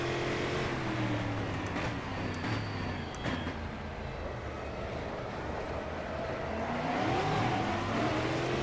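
A V8 stock car in Automobilista races at Ribeirao Preto, its engine revving up and down with rising and falling pitch, loud and continuous with a brief lift mid-way before accelerating hard again.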